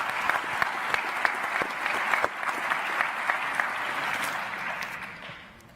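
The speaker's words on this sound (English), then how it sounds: "another round of applause for these amazing," An audience at a social enterprise conference's opening plenary applauds, a dense, steady wash of clapping with a few sharper claps standing out, which fades away over the last second.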